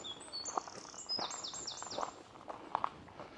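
Small birds chirp and tweet in quick high bursts against a quiet outdoor background, with faint rustling steps nearby.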